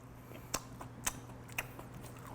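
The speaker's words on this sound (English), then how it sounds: "You hear the crunch? The outside is crunchy." Crunchy-crusted cooked meat is bitten and chewed close up, with three crisp crunches at even intervals over a quiet background.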